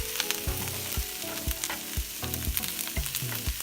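Brussels sprouts fry in a pan with a close, crackling sizzle, punctuated by regular soft knocks and clatters roughly every half second.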